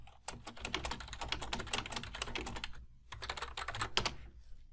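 Quick, light clicking of a computer keyboard as text is typed back in, fast irregular keystrokes close by with a short pause midway, quiet overall and with no speech.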